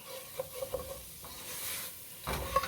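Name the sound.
stirring red chili powder in a pan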